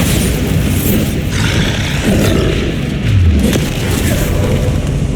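A Bombarda spell explosion in the Hogwarts Legacy video game, a loud, dense boom that lingers over heavy game combat noise and keeps rumbling for several seconds.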